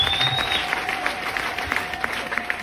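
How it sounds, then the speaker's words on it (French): Congregation at a church healing service clapping together, a dense and steady applause with scattered sharper claps, mixed with a sustained tone and faint voices. "acclamez pour le Seigneur"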